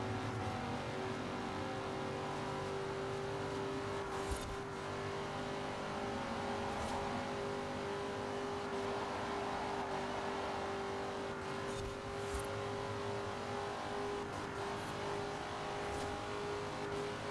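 A damaged muscle car engine races in Forza Horizon 4, a steady loud drone with a sustained engine tone and occasional brief bursts, continuous throughout with no speech.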